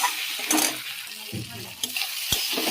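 Chopped tomato fries in a pan with small fish, potato and onion, a hissing sizzle broken by several sharp spatula knocks and stirring scrapes, close and without talking.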